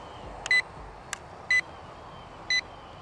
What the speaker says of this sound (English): So I do like the fact that it beeped at you.